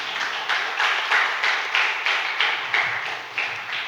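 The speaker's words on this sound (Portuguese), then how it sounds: "Aplauda Ele em nome de Jesus." A church congregation claps in a steady, rhythmic beat, roughly two claps per second, loud and even in unison throughout with no talk over it.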